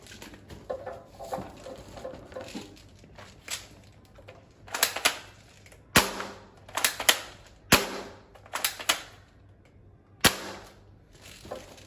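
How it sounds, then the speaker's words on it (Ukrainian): Sharp snapping shots from a toy gun, fired singly and in quick pairs with pauses between, each landing with a dull papery smack. "Тепер будемо стріляти по коробці."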